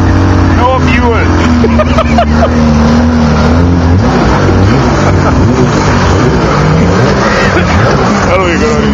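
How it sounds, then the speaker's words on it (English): Polaris engine running on ether starting fluid, loud and rough with uneven revving close by, while people talk over it. "The Polaris running on ether."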